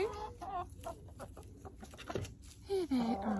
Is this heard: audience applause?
no